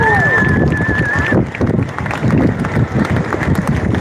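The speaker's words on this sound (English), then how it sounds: "Big round of applause" A crowd outdoors at a race finish breaks into applause, a rough, steady clatter of many hands under wind noise, after a brief whistling tone at the start.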